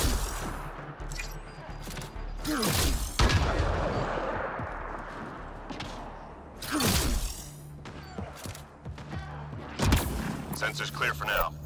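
Gunfire in Mass Effect: Andromeda multiplayer combat, loud heavy shots and bursts recurring in clusters over a busy battle background, with voices talking in between.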